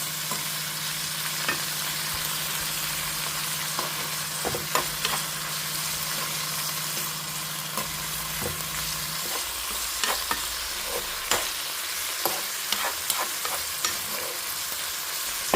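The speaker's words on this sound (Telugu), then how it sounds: "సో ఇలా మంచిగా కలుపుకొని పూర్తిగా మగ్గిపోవాలన్నమాట" A frying mixture is stirred in a pan, steady sizzling hiss with repeated scraping and knocking of the spoon against the metal, a low hum fading partway through, no talking.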